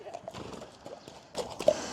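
Hooves clip-clop on a hard floor in a racehorse stable, a scattered run of fairly quiet knocks that grows louder and busier toward the end.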